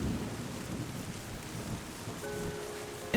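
Thunder rumbles low and continuous beneath steady rain falling in the video game Terra Nil, with a soft chime entering near the end.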